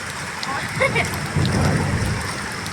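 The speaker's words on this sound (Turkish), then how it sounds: "ikinci dalga geliyor şimdi gök gürültüsü" Steady heavy rain patters throughout on a 45-degree hot day, with a low rumble of thunder rolling in partway through; a voice speaks briefly over the downpour.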